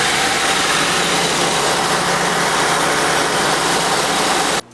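A 2002 Acura MDX engine idles just after an oil change, a loud steady close hum and rumble running evenly until it cuts off abruptly at the very end.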